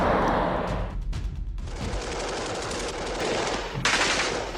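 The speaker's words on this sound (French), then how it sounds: "les maquisards qui étaient postés en embuscade ouvrirent le feu" Machine-gun fire from fighters ambushing a road convoy, a sound effect of loud continuous bursts of rapid automatic shots with a brief lull midway, dense and close.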